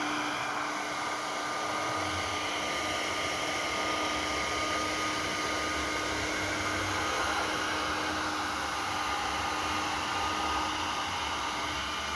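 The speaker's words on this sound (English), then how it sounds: "Always blow it off first, like out here, so there's no contaminants." A blow dryer blasts air over wood to clear contaminants before an epoxy resin pour, a loud, steady rushing roar that runs unbroken and close throughout.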